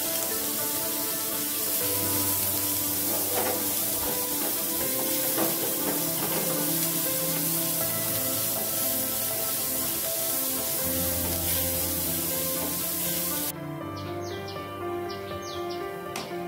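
Onion frying in a pan on a gas stove gives a steady, moderate sizzle throughout, with a low hum and occasional clinks over the crackle.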